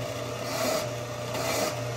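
Steady metal rasping as a file works along the sides of a hand-forged Bowie knife or meat cleaver, smoothing away hammer marks; close, continuous scraping strokes with slight swells in loudness and no talk.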